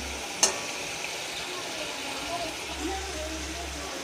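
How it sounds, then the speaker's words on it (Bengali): Eggplant and pumpkin frying in a pan in a home kitchen, a steady soft sizzle with a faint clink early on, while someone speaks over the cooking. "আর এখানে বেগুন কুমড়ো আছে, এটা ভাজা হবে।"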